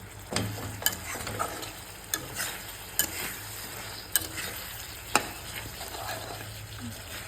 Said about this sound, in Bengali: তো আমি এখন আলুটা ভালোভাবে কষিয়ে নেব